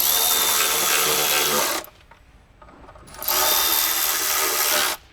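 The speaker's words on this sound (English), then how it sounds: "we're going to tighten down our intake manifold bolts here" A power tool runs up on 8 mm intake manifold bolts going into a plastic lower intake manifold on a Jeep Cherokee 3.2/3.6 Pentastar engine, with two loud, close whirring bursts separated by a short pause.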